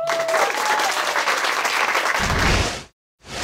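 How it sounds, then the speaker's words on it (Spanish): Loud studio audience applause from a comedy game show audience, dense and sustained for nearly three seconds, then cutting off abruptly before a brief return. "¡Un fuerte aplauso!"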